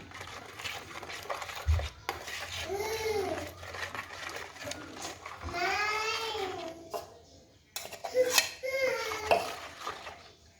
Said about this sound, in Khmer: កូរវាមកទៅណាកូរវាចូលជាតិគ្នា